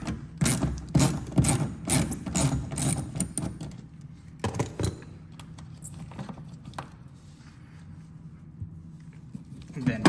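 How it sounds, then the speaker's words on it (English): A ratchet fitted with a 10mm socket loosens the side mirror bolt on a 2014-2020 Lexus IS, making rapid close clicking bursts that are busiest early on and then thin to scattered clicks, with someone talking over it. "Grab the 10mm. You're gonna wanna remove this bolt here."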